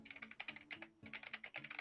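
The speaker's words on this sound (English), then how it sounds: "He's typing away." Rapid typing on a computer keyboard at a nearby desk, a steady run of light clicking keystrokes with brief pauses, with no talking.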